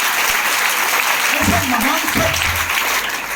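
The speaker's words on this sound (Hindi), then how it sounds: "दोबारा एक जोरदार ताली हो" Loud applause from an audience at a direct-selling gathering in Nala Sopara, honoring Digvijay Pathak, sustained across the moment with a voice speaking over it.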